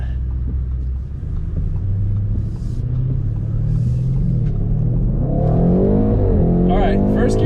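A Nissan R32 Skyline sedan accelerating hard in first gear, its engine droning loud and low from inside the cabin and rising in pitch near the end.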